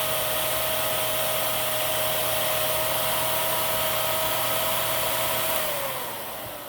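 A Miele Swing H1 canister vacuum cleaner runs steadily at close range with a constant whine and broad airflow rush, with no talk, then its motor begins winding down near the end.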